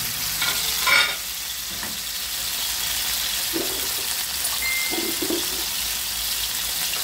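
Eggplant omelette (tortang talong) with eggs and onion hitting hot oil in a pan, giving a steady broadband sizzle throughout with a brief louder crackle near the start and a few soft clinks.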